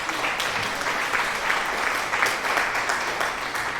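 Applause sound alert triggered by hand on a live stream: a steady wash of crowd clapping, fairly loud and continuous for a few seconds, with no one talking over it.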